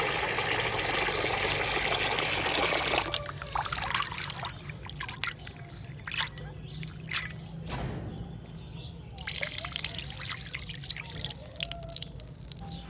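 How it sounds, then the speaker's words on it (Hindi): Water runs from a tap into a pot of soaked chana dal, a steady loud splashing that cuts to quieter trickles and drips, then swells into a full stream again. "दोबारा पानी डालेंगे"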